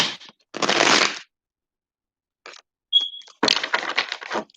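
Tarot cards are riffled and shuffled in quick, crackly bursts separated by silent pauses, with a brief high beep in between.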